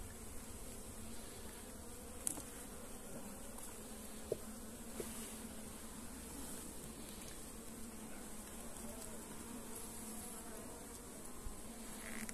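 Honey bees buzz around an open hive in hot central Portugal, giving a steady, faint drone that holds for the whole stretch, with a few soft clicks and no talk.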